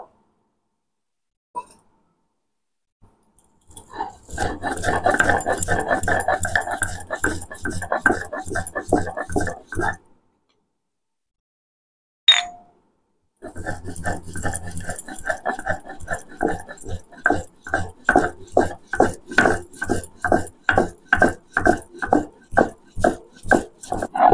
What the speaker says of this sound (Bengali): এবার আমি পোস্ত বেটে নেব